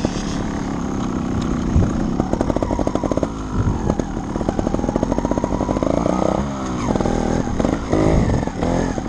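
A Sherco 300ST Factory trial motorcycle engine close by, sharp staccato revs rising and falling in quick bursts, buzzing and uneven throughout.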